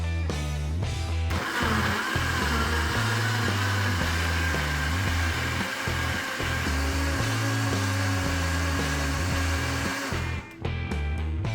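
A blender roars steadily and loudly, churning a smoothie of milk, oats and a spoonful of flaxseed, with the motor drone holding constant from start to finish.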